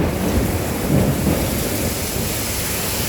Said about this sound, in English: I cannot hear you over the thunder because that lightning was like on top of me.